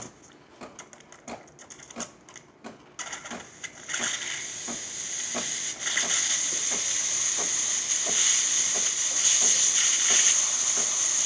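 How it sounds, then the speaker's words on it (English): A DeLonghi espresso machine steam wand hisses loudly and steadily, building in intensity, over a faint rhythmic ticking pulse from the machine. "The steamer is steaming the way it's supposed to."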